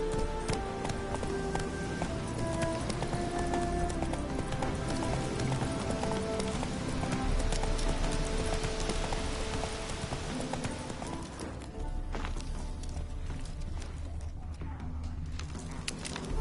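Roach, a horse in The Witcher 3, gallops with a steady, rapid clip-clop of hooves under a dense, continuous backdrop of game music and ambience, loud throughout.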